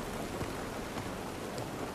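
Steady rain falls in The Last of Us Part 1, a soft, even hiss of drops on surfaces with no voices. It sounds continuous and fairly faint.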